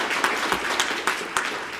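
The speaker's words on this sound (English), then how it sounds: "make sure you clap really loud and cheer really loud." Audience at a police department awards ceremony claps loudly and steadily, with sharper cheers and shouts breaking out over the continuous applause.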